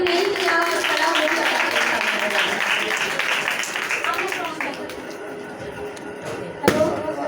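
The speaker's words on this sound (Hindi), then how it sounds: "मदर्स अपने अपने लिए तालियां हो जाए" An audience at a kids' Bible camp church service claps steadily and loudly for the mothers, a dense wash of applause with voices mixed in and one sharp thump near the end.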